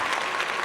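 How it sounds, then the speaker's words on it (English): A short burst of steady applause from a podcast studio setting, dense hand claps at close range and fairly loud, with no speech over it. "We got the claps."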